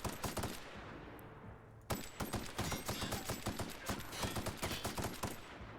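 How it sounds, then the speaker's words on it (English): Rapid, loud bursts of assault rifle fire in The Outer Worlds, dense repeated shots in two runs with a brief gap between them, close and without talk. "this assault rifle's working wonders"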